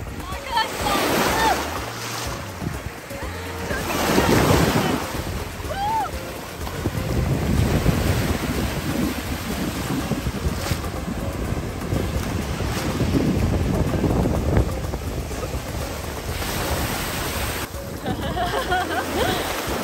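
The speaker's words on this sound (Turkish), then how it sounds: "Arkadaşlar dalgalar o kadar güzel ki." Sea waves wash and surge in rolling swells along the Dominican coast, heavy wind buffeting the microphone throughout, with someone talking over the water.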